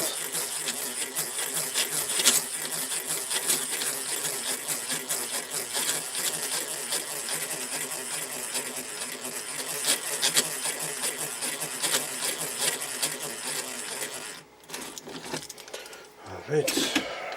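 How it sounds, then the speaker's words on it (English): An old hand drill bores steadily through Candohm resistor material, giving a continuous close grinding whir with small rhythmic clicks that stops near the end, followed by faint handling noises. "this stuff is so easy to drill through"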